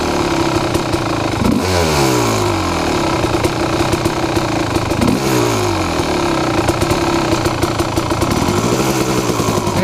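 Close, loud KX2 motorcycle engine running continuously with the clutch pulled in, a steady rough clattering idle with a few brief swells in pitch.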